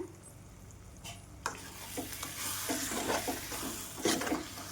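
Brinjal tomato curry being stirred in a pan with salt and chilli powder, a soft scraping and light sizzle heard close up, with a few louder spoon knocks.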